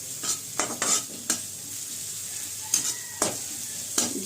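Ginger and garlic fry in ghee in a pan on high flame, with a steady soft sizzle broken by several sharp scraping stirs of a utensil against the pan, all close up.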